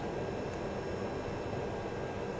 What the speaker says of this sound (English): that's like the engine retarder